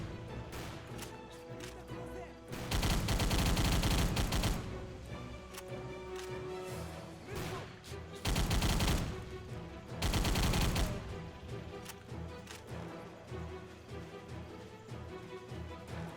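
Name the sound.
gunfire tapping the trigger in a video game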